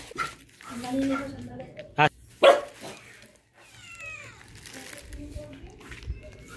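A couple of sharp barks from house dogs chasing a delivery rider ring out amid ongoing talk, with quieter whimpering sounds and light background noise.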